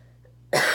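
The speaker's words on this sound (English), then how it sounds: "I got a cough." A person coughs once, a sudden loud burst after a short near-silent pause, up close with no talking.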